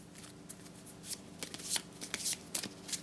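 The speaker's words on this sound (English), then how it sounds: "and then, shuffle our deck" Close-up riffle of a deck of cards being shuffled, quick papery flutters and snaps in several short bursts.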